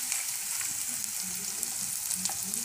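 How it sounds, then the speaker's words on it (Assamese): Ginger-garlic paste and carrots frying in a pan for bread manchurian, giving a steady, close sizzle with small crackles and faint stirring throughout, no voices. "আদা আৰু নহৰু পেষ্টখিনি দি দিম আৰু এইখিনি অকণমান ভাজি ল'ম"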